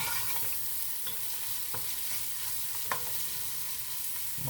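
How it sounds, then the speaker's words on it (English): Onions cooking in a pot for a slow-simmered meatball and sausage tomato sauce, a steady soft sizzle with a few faint scrapes and clicks of stirring, close up and without talk. "you see that the onions are starting to turn a little translucent"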